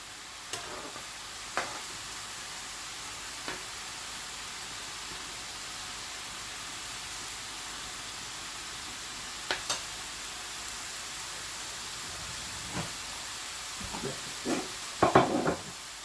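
Mathri, a fried Indian pastry, frying in oil over a low-medium flame, a soft continuous hiss and bubbling with a few scattered sharp clicks and taps, loudest near the end.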